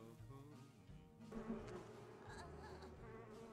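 Buzzing bees from a beehive in a video game, a steady insect drone that swells partway through and carries on alone with no talking.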